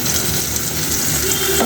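Onion and garlic frying in hot oil in a pan for a fish curry, giving a steady, loud, close sizzle that runs unbroken throughout, with no voices.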